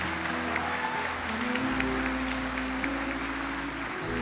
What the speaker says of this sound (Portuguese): aplauda o Senhor nessa noite.